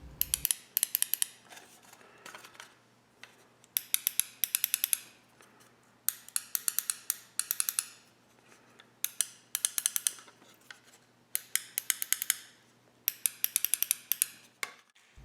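Metal springs in a Beeshu Ultimate Superstick joystick for the SEGA Master System click sharply in quick bursts of several snaps, repeated in clusters with short pauses, close and crisp against a quiet background.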